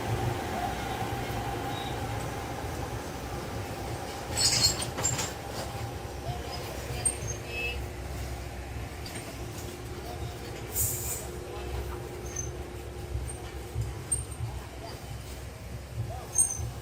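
The 06597 Yesvantpur–Rishikesh special train is heard running, with a steady low rumble and rattle of the moving coaches, a few brief clanks and squeaks, and faint voices in the background.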